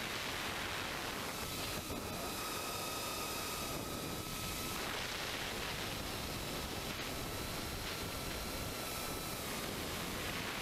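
A Diatone Taycan FPV drone flies around bushes outdoors, giving a steady broadband propeller whir with faint high motor whines that rise and fall as it manoeuvres, loud and continuous throughout with no talking.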